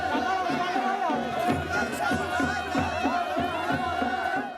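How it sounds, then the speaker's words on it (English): A crowd of over 100 men at the Faguli spring festival in Himachal Pradesh jostling and struggling to catch a thrown beat, with dense overlapping voices, shouts and chatter, and steady loud commotion throughout. "The festival ends with the beat being thrown towards a waiting crowd of over 100 men."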